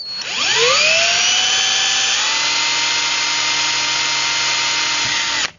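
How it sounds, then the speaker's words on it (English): A power drill spins up with a rising whine, then runs at a steady loud pitch for several seconds before cutting off abruptly, drilling a bracket hole on a 2014 Ram 1500. "now it's time to drill the other hole and we'll finish installing the bracket"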